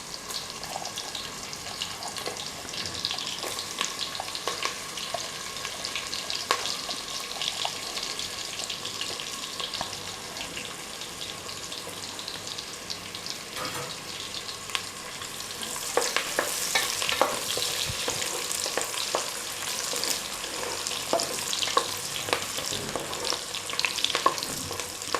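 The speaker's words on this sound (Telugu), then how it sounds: "కొంచెం వేగాయి కదా, ఓకే ఉల్లిపాయలు వేసేసుకున్నాము." Onions sizzle and fry in plenty of oil in a pan for a country chicken curry, with a steady crackle and the occasional scrape of stirring that turns busier and louder in the second half, and no voices.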